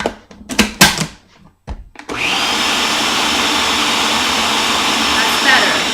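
A kitchen blender whirring through a batch of hummus, a loud continuous motor roar that starts abruptly after a few short bursts and clatters, running steadily to the end.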